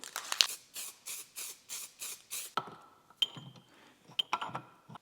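Zinc coating sprayed from a can onto a masked-off Mitsubishi Evo 8 car part comes in about eight short, rhythmic hissing bursts, close and fairly loud, followed by quieter clicks and light rattling.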